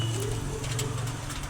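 Pet pigeons coo nearby, a low soft rolling call repeating over a faint outdoor background.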